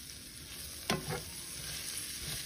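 Garlic fries quietly in a pan, a soft, steady sizzle with one brief scrape of stirring near the start.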